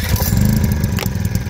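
A small petrol generator starts up and runs: a loud, close, throaty engine chugging with a fast, uneven rhythm that holds steadily, with no voices.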